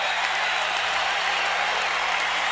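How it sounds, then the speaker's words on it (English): Basketball arena crowd in Orlando roaring and applauding as the Magic call a late fourth-quarter timeout against the Detroit Pistons, a dense, sustained wash of cheering with no clear voices. "Listen to the crowd as the Magic call timeout."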